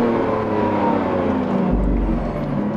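A new Lamborghini Countach's naturally aspirated V12 engine, assisted by an electric motor, drones steadily with a tonal hum, then deepens into a heavier, louder growl partway through, close by.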